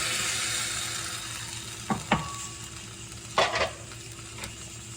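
Ground tomato rasam cooks in a pan with a low steady sizzle, broken by a few clicks and taps of a spoon against the pan.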